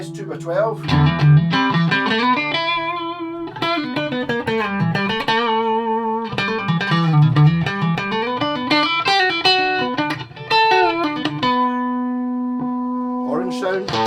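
Electric guitar through a VOX VT20+ modeling amp plays chords and sustained notes with a processed, amplified tone, ringing out in phrases with brief pauses between.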